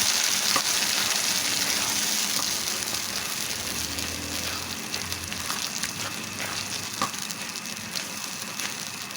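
Boiled mung beans being stirred and cooked in a pan, a steady close sizzle with soft scraping and stirring noises running the whole time, no talking.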